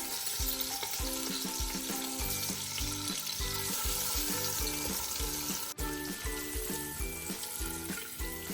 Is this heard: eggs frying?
yes